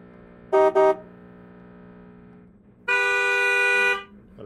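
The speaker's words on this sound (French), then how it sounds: "Klaxon, voiture." Two short car horn honks close together, then a longer sustained blast a couple of seconds later, loud and near.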